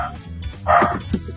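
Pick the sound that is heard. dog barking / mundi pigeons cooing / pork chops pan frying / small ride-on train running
dog barking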